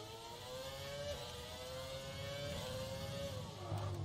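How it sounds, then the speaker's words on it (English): High-pitched whining V8 Formula 1 engine from the F1 2020 racing game, a steady sustained scream with shifting pitch as the car accelerates and changes gear, loud and continuous with no talking. "God, the sound of that car is just so whiny."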